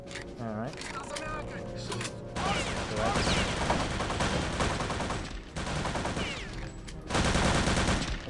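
Bursts of gunfire pepper the ground in Return to Castle Wolfenstein, rapid rattling volleys in several clusters separated by short pauses, with someone talking over some of it.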